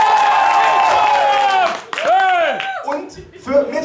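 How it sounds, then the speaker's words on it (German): A talent show audience at an annual final in the Pool Garden cheers loudly and claps for a contestant. Shrill whoops and yelling voices dominate a brief burst that fades after about two seconds into scattered calls. "jetzt bitte euer 2-Sekunden-Applaus für Serkan"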